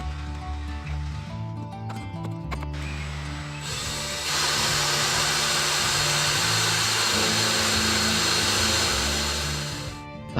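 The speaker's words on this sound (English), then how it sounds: "The tower base is built up by adding boards and screwing them together." A power tool drives screws through boards of a wooden potato planter tower base, a steady whirring drone that swells louder and brighter midway and holds before easing off at the end.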